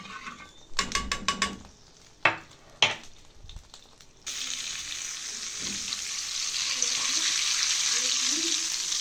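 Garlic frying in oil for Egyptian molokhia: after some clattering clicks and knocks, a steady sizzle rises abruptly and continues, close and fairly loud.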